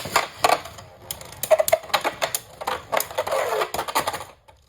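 Beyblades Union Achilles and Wizard Fafnir collide in a plastic stadium, giving rapid sharp clacks and rattling hits in irregular bursts, close and loud, fading to quiet at the end.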